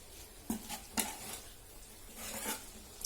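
A spoon stirs spice powders into pineapple pickle in a pot, giving a few soft scrapes and distinct metallic clinks against the vessel, fairly faint and close by.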